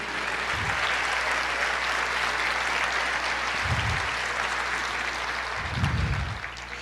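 Sustained congregation applause in a church during a sermon on Easter, dense steady clapping for nearly seven seconds, with low thumps recurring underneath and a faint hum throughout.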